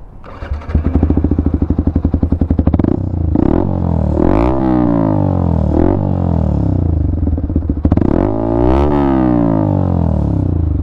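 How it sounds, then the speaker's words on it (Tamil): A fully modified Yamaha R15 v4 motorcycle with an aftermarket exhaust, revved hard up close: a loud, raspy note that swells and falls in repeated sharp blips over a steady idle rumble. "அப்படியே எக்ஸாஸ்ட் நோட் கேட்டுட்டு அப்படியே ஹைவேஸ் பக்கம் தான் ஜம்முன்னு ஒரு ரைடு எடுத்துகிட்டு போயிடுவோம்"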